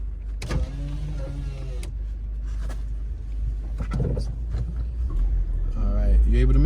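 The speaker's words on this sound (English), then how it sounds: "I'm opening up the window because it's starting to get foggy" A car's electric power window motor hums as the glass lowers while driving through Philadelphia's Cobbs Creek neighborhood, a steady whir under road and engine noise with brief talk.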